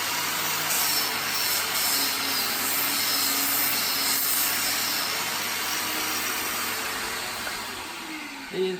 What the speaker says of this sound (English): The important thing about sanding, just worth mentioning, is when you're moving the machine, you don't go backwards and forwards